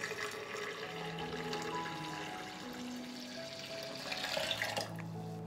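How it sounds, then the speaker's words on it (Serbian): A litre of water pours into a blender jar as a soft, continuous splashing stream that builds slightly toward the end, fairly quiet and with no talk over it. "Sipat ću u blender litar vode."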